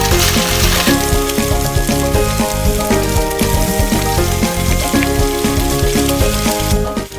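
Salmon frying in hot oil in a pan, a loud, dense, continuous sizzle with crackling pops that holds steady throughout, close and without voices.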